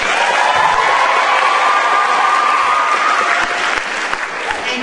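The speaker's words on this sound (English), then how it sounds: "Let's give a big round of applause for Lucas Barley." Audience applause fills a school spring concert hall, loud sustained clapping from a large crowd that rises and then begins to thin toward the end.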